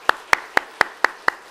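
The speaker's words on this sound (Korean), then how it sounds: "우리 좀 박수로 하나님께 영광 돌립시다" Clapping in a church during a sermon as the congregation is asked to praise God, heard as six sharp, evenly spaced claps in a steady rhythm, fairly close and with no talk over them.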